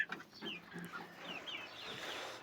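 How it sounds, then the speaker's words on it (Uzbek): Black hens in a coop housing about forty birds cluck and chatter softly in a steady low murmur, faint and continuous, with no voices. "Bu yerda 40 tacha tovuq bor."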